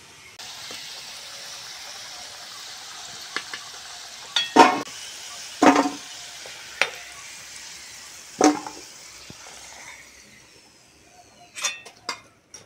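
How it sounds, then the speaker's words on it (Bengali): Potatoes frying in hot oil for crab curry give a faint steady sizzle, broken by several sharp clattering stirs and scrapes of a utensil in the pan. "আলুটা ছাঁকা তেলে ভালো করে ভেজে নিয়েছি"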